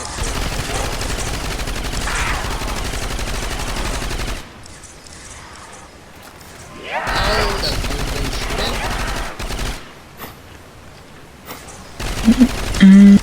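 Rapid automatic gunfire in a Call of Duty zombies match on the lighthouse map, dense bursts that stop for a couple of seconds then resume, with a player's voice over the shooting.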